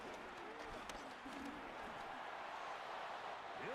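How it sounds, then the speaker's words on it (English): Stadium crowd noise during a third-down play in the Madden 26 football game, a steady broad roar of fans with some whistles and rising shouts, moderately loud and sustained throughout. "This crowd into it now as we get to third down."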